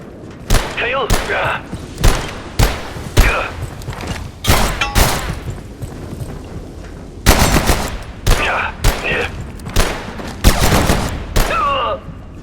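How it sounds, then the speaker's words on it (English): Repeated bursts of gunfire in the video game Abiotic Factor, a pistol fired at enemies in a defence area, with sharp loud shots in irregular clusters and short pauses between them. "I am gonna shoot some more of these individuals and get my accuracy up even more"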